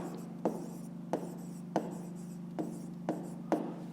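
A pen writes on paper while a fifth-grade math exercise is worked out, giving about six short, regular scratching strokes close up over a steady low hum.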